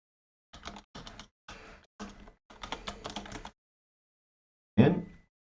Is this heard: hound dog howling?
no